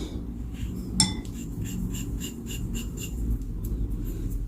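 A spoon clinks and scrapes around a bowl while brown sugar and coconut oil are mixed into a natural body scrub. One sharp clink comes early, followed by steady, close rhythmic scraping with no talk.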